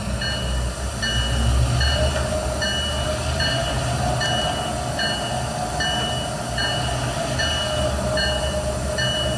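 A train in the Trainz 2019 simulator rolls backwards, a steady rumble with rhythmic rail clicks and a faint repeating tone, heard alone and fairly loud.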